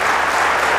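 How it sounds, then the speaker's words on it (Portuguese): Audience applause at a Portuguese RTP televised debate: a dense, steady burst of many hands clapping together, loud and close, lasting under a second with no voices over it. "O Presidente Maria Almeida não precisa de palmas"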